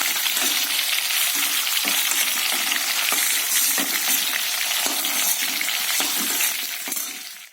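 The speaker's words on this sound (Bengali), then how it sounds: "ডিম ভাজা তেলের ওপরে" Eggs sizzle and crackle loudly in hot oil, a busy continuous spattering with occasional scrapes, fading away at the very end.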